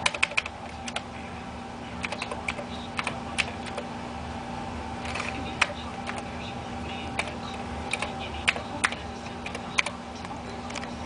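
Someone types on a Commodore 64 keyboard with quiet, irregular clicking keystrokes. The taps are close and faint, and there is no talk over them.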